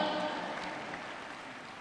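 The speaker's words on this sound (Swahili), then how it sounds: "Ladies and gentlemen, twina Edith wa Iribo, makofi yake tafadhali" Audience clapping steadily for a singer at a live church worship event, a sustained, fairly quiet wash of applause that fades slightly over two seconds, with no talking over it.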